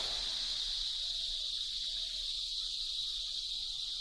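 A continuous shrill chorus of cicadas fills an Indian forest, loud and unwavering from start to finish, with no voices over it.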